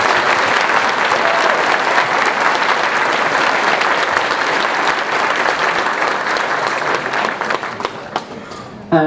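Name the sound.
applause for Gav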